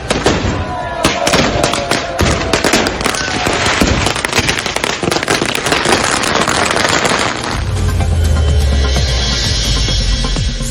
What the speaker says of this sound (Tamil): ராஜஸ்தான் மாவட்டம் உதய்பூர் அருகே கன் பவுடர் ஹோலி பண்டிகை கோலாகல கொண்டாட்டம்